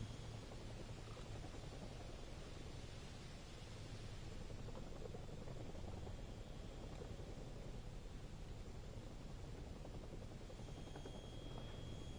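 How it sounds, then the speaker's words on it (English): A Chinook helicopter hovering in the PTFS flight video game gives a steady, even rotor drone with a constant whooshing hiss that holds unchanged throughout. "The Chinook will now taxi off. Well, it can't really taxi, it hovers."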